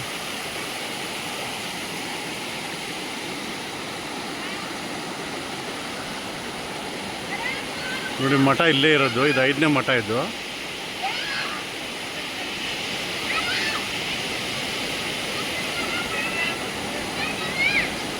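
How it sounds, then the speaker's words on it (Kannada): A waterfall and flowing water rush beside a math at Srisailam, a constant, loud roar that fills the scene while someone talks over it for a few seconds midway. "ಈ ಗಂಡ ಮಠ ಪಕ್ಕ ನೋಡಿ ಫ್ರೆಂಡ್ಸ್ ನೀರು ಹೆಂಗೆ ಹರಿತಾ ಇದೆ ಫಾಲ್ಸು"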